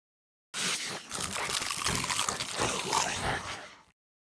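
Sound effect of a zombie chewing crunchy deep-fried finger bites: wet, crackly crunching and munching that runs dense and loud for about three seconds before stopping abruptly.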